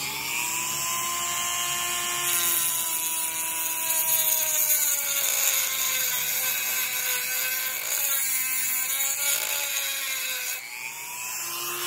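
A small rotary power tool whines steadily at high speed, shifting slightly in pitch as it grinds silver burrs off a handmade spoon ring, loud and close for the whole stretch.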